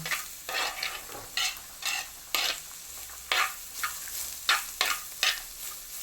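Vegetables and tuna for a Kerala-style thoran are stirred and tossed in a hot pan, with a spoon scraping the pan in irregular strokes over a soft, constant sizzle. The sound is close and moderately quiet, with no talking.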